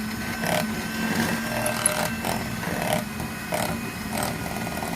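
An electric hand mixer whips egg whites for kue lidah kucing cookie batter, buzzing steadily with rhythmic surges roughly every second as the beaters move through the bowl.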